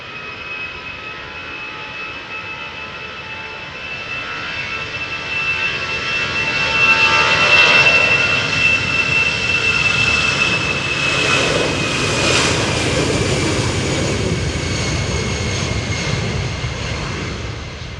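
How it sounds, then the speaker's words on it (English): A jet airliner departs Amsterdam Schiphol Airport in gusty crosswind, its engine roar swelling from a distant rumble to a loud, broad sustained thunder and holding strong without any voices. "I hear the sound of an airplane"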